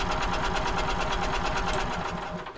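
A two-cylinder generator engine runs steadily and loudly right up close, its fast, even pulsing going on with no break and no voices over it.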